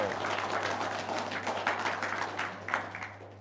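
Studio audience clapping at a talk-show taping, a steady moderate wash of hand claps with a low constant hum underneath and some voices mixed in.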